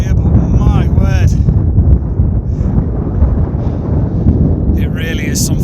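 Steady wind buffets the microphone on the exposed volcanic summit of Pico de la Nieve on La Palma, a broad continuous low roar that holds loud throughout, with someone talking briefly over it at the start and near the end.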